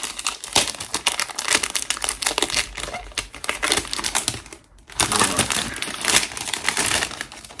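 Cellophane wrap torn and crumpled off a perfume box, a close, busy crackle of crinkling plastic with a short pause midway.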